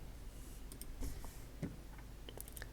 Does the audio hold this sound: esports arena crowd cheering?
no